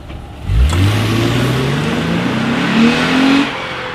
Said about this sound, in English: plenty of power, good acceleration on the IS300 here